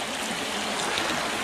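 Stream water rushing and trickling at a hiking trail crossing, kept at a steady, close, broadband wash with no talk during it.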